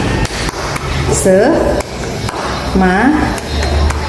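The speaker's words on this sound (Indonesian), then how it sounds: "coba kita tepuk semangat" A class of schoolchildren does the rhythmic spirit clap (tepuk semangat): a patterned series of sharp claps in a set beat, mixed with children's voices chanting along.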